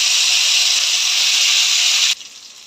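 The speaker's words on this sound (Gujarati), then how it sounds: "આપણું તેલ ગરમ થઈ ગયું છે, હવે એમાં આપણે જીરું એડ કરીશું, મીઠો લીમડો એડ કરીશું, આદુ મરચાં અને ટામેટાં એડ કરીશું" Cumin, curry leaves, ginger, green chilli and tomatoes dropped into hot oil give a loud, steady hiss and sizzle that holds for about two seconds, then cuts off abruptly to a faint residual crackle.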